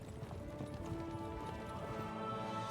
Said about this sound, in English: Army of horses.